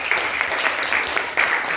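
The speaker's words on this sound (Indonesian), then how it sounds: "Tepuk tangan yang meriah." Students in a classroom give a group of classmates lively applause, a continuous wash of many hands clapping throughout, close and fairly loud.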